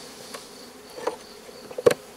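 Honey bees buzz around a Layens beehive at an apiary in the woods, a low steady hum with a few individual bees passing close in brief louder swells.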